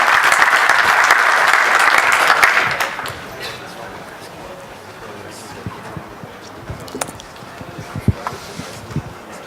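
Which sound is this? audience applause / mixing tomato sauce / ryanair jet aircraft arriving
audience applause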